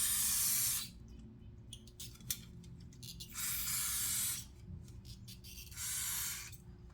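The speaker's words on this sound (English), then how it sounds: "I'm going to give it a spray," Aerosol brake cleaner sprays onto the front brakes of a Mitsubishi Ralliart in three hissing bursts, each lasting about a second. The bursts are separated by short pauses, and a low background hum runs underneath.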